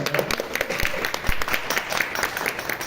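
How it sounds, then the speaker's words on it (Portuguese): Audience applause follows a thesis presentation at a university course defense. Dense, steady clapping fills the whole moment at moderate volume, with a little talk mixed in. "Aplausos, gente."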